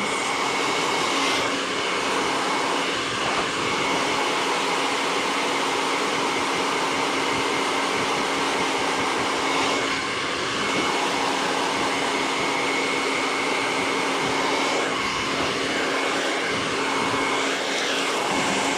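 A handheld hair dryer blows steadily and loudly during a paddle-brush blow-dry, its continuous airy whine unbroken for the whole stretch, with no talk.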